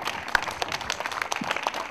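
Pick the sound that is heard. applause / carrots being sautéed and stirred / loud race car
applause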